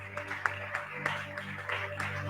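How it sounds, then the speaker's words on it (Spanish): A church congregation claps in a steady rhythm, faint and somewhat distant, over sustained musical tones with no talking. "Oh, fuerte el aplauso al Señor."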